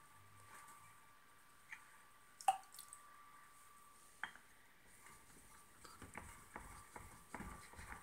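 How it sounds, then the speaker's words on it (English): A large Okudo Suita #52 natural bench stone rinsed with clear water, soft drips, splashes and wet squishy patter scattered across the span, quiet and close with a few sharper splashes, no talk. "Let me rinse this off."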